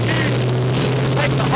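A Pratt & Whitney R-4360 radial aircraft engine runs with a steady, loud, low droning rumble, heard close up and unbroken, with a faint voice beneath it.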